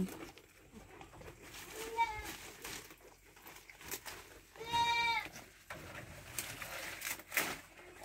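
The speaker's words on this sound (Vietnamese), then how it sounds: "đang đi thăm đàn dê của nhà nha" Goats in a family herd bleat a few times at moderate distance, short wavering cries standing out over rustling and low outdoor background noise.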